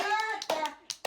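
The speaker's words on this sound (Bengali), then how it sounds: "এই যে হাততালি হাততালি হাততালি হাততালি" A few separate hand claps at a baby's first birthday celebration, three or four sharp, close slaps spaced unevenly, with a voice talking over the start.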